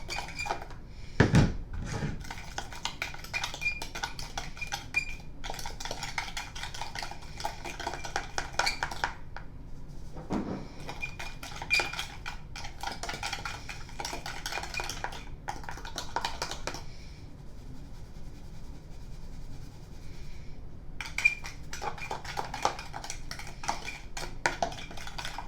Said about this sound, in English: mix all of the cinnamon and sugar